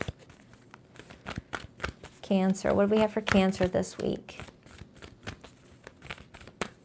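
A tarot card deck being shuffled, a run of quick crisp riffles and ruffling flutters throughout, briefly interrupted by a woman's speech in the middle.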